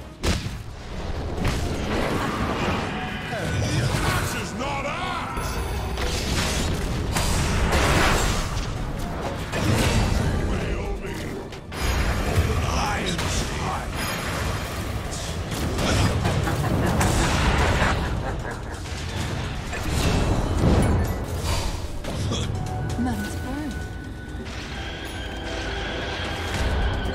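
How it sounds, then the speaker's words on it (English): Radiant's bottom tower in the video game Dota 2 comes under attack, with dense, continuous booms and explosive impacts crashing throughout, loud and busy with little let-up, and a voice occasionally heard among the blasts. "Radiant's bottom tower under fire."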